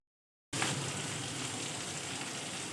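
Potatoes with turmeric sauté in a pan, a soft steady hiss of frying that starts abruptly after a brief silence and holds at an even, fairly quiet level.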